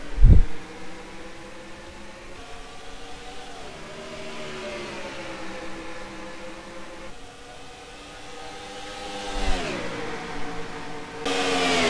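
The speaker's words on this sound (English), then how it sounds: "So now you guys can hear the cars again." Race car engines at Dover in a stock car racing video game drone steadily as a pack, pitch rising and falling with gear changes and throttle, a sharp thump near the start and a louder surge near the end.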